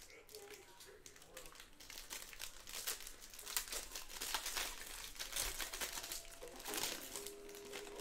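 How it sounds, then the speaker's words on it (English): Tearing open a 2020 Bowman Jumbo baseball trading card pack: continuous close crinkling and ripping of foil wrapper with sharper tearing bursts, heard throughout at moderate loudness. "let's print this out and rip our pack"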